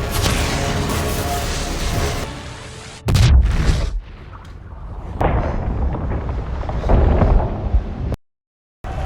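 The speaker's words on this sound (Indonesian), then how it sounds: "Lalu ia meledakkan gerbang tersebut." A powerful blast destroys a city gate in a film scene, a sudden heavy boom that cuts through earlier rumbling, followed by booming debris and scattered crashes, then a brief silence before sound resumes.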